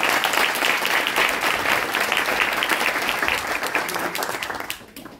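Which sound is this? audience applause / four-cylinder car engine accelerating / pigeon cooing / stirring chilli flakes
audience applause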